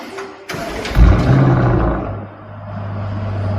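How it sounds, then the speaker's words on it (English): A car fitted with an Akrapovic exhaust with a baffle cranks with a brief starter whir, then catches into a loud rev before settling into a steady, deep idle close by. "Start this car up, please."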